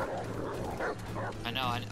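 A summoned dog in a video game gives short yips and whimpers, mixed with overlapping talk through the brief moment.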